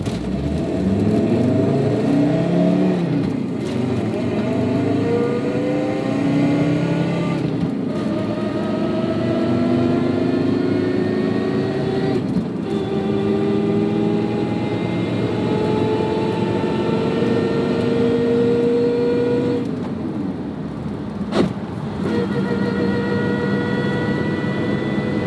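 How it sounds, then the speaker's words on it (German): A VW T4 California van pulling away in first gear, engine and drivetrain whine rising in pitch with speed in repeated sweeps, the note dropping between pulls, loud and steady with road noise and no talk. "ich fahre jetzt gleich in meinem ersten Gang an und werde auch gleich nochmal die Kupplung treten während der Fahrt"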